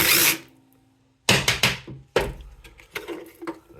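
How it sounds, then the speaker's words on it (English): Short bursts of a power drill whirring, a quiet pause followed by several sharp, close revving pulses and rattling. "Got my drill on the way."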